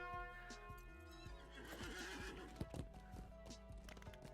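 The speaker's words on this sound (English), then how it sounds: "We'll run out on our war steed." War steed horse in The Lord of the Rings Online neighs and whinnies loudly, with clip-clopping hooves, close and alone with no talk.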